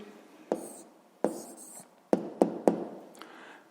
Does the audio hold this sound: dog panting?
no